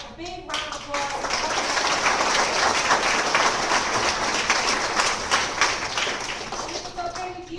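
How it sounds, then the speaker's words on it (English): Sustained audience applause at a fashion show, a thick, continuous clapping that builds quickly and runs for several seconds before fading, heard up close with a brief voice at the edges. "let's give Linda and Dillard a big round of applause."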